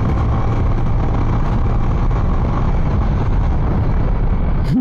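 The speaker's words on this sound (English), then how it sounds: "Stretching it, 7000 RPM, 8000 RPM, yeah, red line." A two-decade-old Hero Karizma motorcycle engine held high toward the red line, roughly 7000 to 8000 RPM, a loud, steady, close droning roar with a faint rising whine at the very end.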